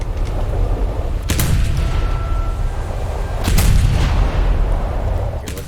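War Thunder naval battle: a ship's guns fire in two heavy booming salvos a couple of seconds apart, each followed by a rolling rumble over a constant low engine drone.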